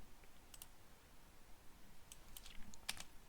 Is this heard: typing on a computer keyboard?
yes